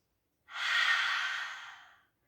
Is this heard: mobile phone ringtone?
no